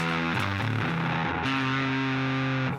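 Single notes on an electric guitar ring out through a distortion pedal, a few sustained, overdriven tones that shift pitch one after another, loud and without talk.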